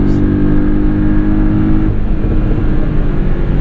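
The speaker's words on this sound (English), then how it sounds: "you have a lovely noise from the recirculation valves" A tuned 2017 Porsche 718 Boxster S with PDK drones loudly from inside the cabin, then lifts off throttle with a brief turbo recirculation valve whoosh over the engine note.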